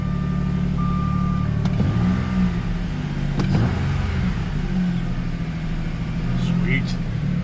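A 2000 Jaguar S-Type 3.0 V6 idles steadily after a misfire repair, a constant low engine drone heard close, with a faint chime and a few small clicks on top.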